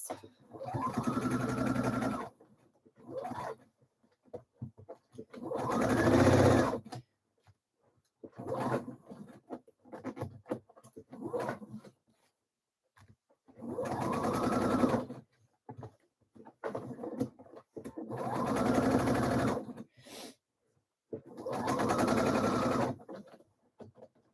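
A home sewing machine stitches the sleeve cuffs of a Frida blouse in about six bursts of steady, close whirring, each separated by quiet handling and pauses.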